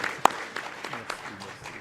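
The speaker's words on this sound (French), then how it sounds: "je voudrais demander à tous les participants d'applaudir" Audience applause at the closing of a 2016 international conference, a brief burst of clapping mixed with voices and one sharp nearby clap.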